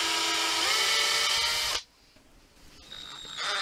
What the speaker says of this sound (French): On va percer donc ce montant et on va venir y fixer donc la première roulette.